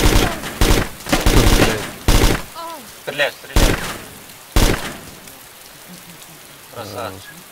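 Gunfire in the survival video game DayZ, several loud sharp bursts of shots cutting through dense rainy noise, with voices talking in between.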